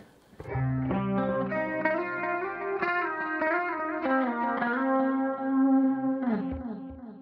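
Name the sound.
guitar through Boss ME-90 space clean preset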